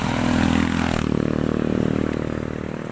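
Motorcycle engine idling with a steady, throbbing rumble among many motorcycles parked at a cockfighting arena in Mabo, Galera, close and continuous for the whole stretch.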